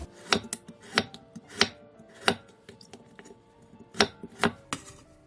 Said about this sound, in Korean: 알배추 반통을 먹기 좋게 길게 자르고 만약 무가 있으면 무도 조금 나박